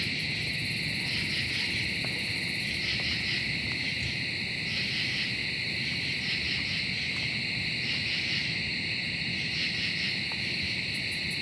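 Steady outdoor night chorus of insects with a northern bush katydid's repeating high buzzing pulse rising and falling, continuous and fairly close, no voices.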